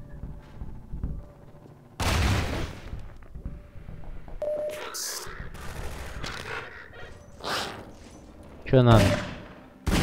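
Magnum revolver shots in Half-Life 2 boom out in a few loud, sharp blasts spaced across the stretch, mixed with game noises and a voice talking between them.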